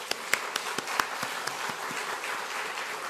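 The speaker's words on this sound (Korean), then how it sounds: "감사의 박수, 찬양의 박수를 하나님께 올려드리겠습니다." Church congregation giving a round of applause during a Sunday afternoon service, many hands clapping steadily in a fairly close, busy wash of sound with a few sharper individual claps.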